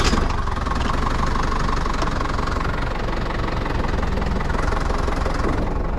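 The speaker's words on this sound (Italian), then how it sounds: "un trattore senza cabina" Engine of a cabless tractor idling in an orchard, a steady loud low rumble with knocking throb that continues unbroken throughout, heard close up without any talk.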